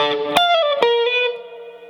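A rockabilly swing lick on electric guitar, with effects and a slight overdrive, plays as a quick run of picked single notes with sharp attacks and bent and sliding pitches, ringing out and fading over about two seconds, alone.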